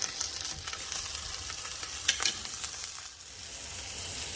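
Chilies crackle and sizzle in a dry hot pan, a steady close hiss with occasional scraping as they're stirred, no talking.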